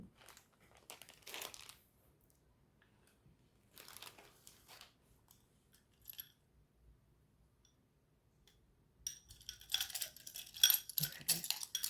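Tarot charms clink and rattle in soft, scattered bursts with quiet pauses between, growing into a louder, denser jangling shuffle near the end, close by.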